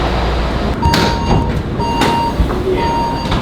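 A train at a station in Taipei, with a steady low rumble of the carriages, repeated high electronic chime tones and door or brake hisses, plus faint chatter in the background.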